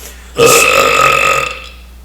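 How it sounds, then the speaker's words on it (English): A person lets out a single long, loud burp up close after eating, rising abruptly and trailing off over about a second. "I actually ate food tonight, so I'm going to burp."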